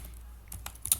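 Code is typed on a computer keyboard in VS Code, a few quick soft key taps near the end after a short quiet pause, close and faint.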